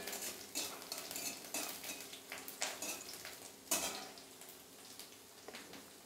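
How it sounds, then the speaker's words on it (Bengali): Garlic frying in a pan for a jackfruit-seed mash: a steady close sizzle with repeated clinks and scrapes of a spoon stirring against the pan, and no talking. "রসুনটাকে লাল লাল করে একটু ভেজে নেব।"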